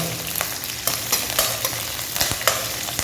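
Broad beans sauté in hot oil over medium heat as a spatula stirs them, giving a steady close sizzle broken by scraping stirs and light clacks against the pan, with no talk.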